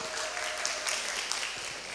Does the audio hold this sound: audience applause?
yes